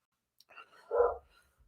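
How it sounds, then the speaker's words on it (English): A pet dog barks once indoors in a noisy home, a single short, muffled bark that is fairly faint and stands alone after a few soft rustles. "My dog's barking."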